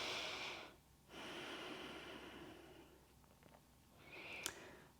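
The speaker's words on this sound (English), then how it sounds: "deep inhale, expand your belly" A long, deep breath during yoga practice is drawn in audibly through the nose, airy and close, followed by a slower, fainter breath with a brief snort at the end.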